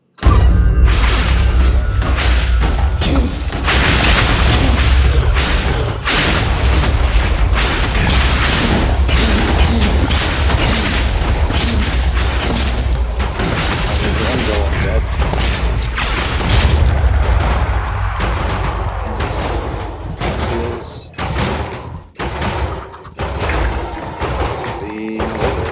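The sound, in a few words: explosions while fighting the wither in the video game Minecraft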